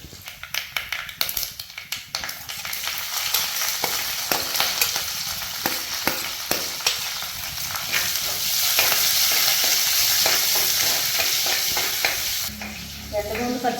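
Mustard seeds and curry leaves frying in hot coconut oil, a loud close crackle and spatter with sharp popping bursts over a dense sizzle that fades briefly near the end.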